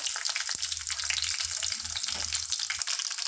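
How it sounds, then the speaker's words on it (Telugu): Mustard seeds and cumin sizzle steadily in hot oil as a tempering for a stuffed brinjal curry, a dense close crackle with faint stirring scrapes and no voices. "కొద్దిగా ఆవాలు కొద్దిగంత జీరా పోపుకేసుకున్నాం సార్"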